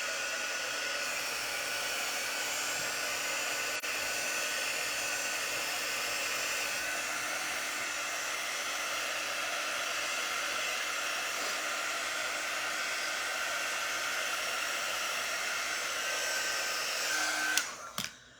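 A hair dryer blows steadily and close on a textured craft pumpkin, a constant airy roar that continues for most of the stretch before clicking off at the end.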